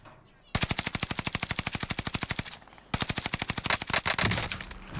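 A Cooper carbine in Warzone fires two long, rapid bursts at close range, each shot sharp and evenly spaced, with a brief pause between the bursts.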